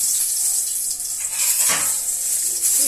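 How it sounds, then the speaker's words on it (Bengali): Steady bright hiss of a bay leaf frying in hot oil in a pan, a continuous sizzle with a faint clink of utensil partway through, close and fairly loud, no speech. "পরে তেলটা গরম হয়ে গেছে। এবার আমি এটাতে একটা তেজপাতা দিয়ে দেব।"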